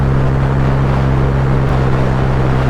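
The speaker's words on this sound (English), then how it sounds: "The Honda Grom is the superior mode of transportation." A Honda Grom motorcycle being ridden on a cold winter road, its engine a steady low drone buried in loud, constant wind roar with no speech.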